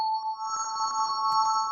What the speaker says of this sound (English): you get this sort of, a sort of major chord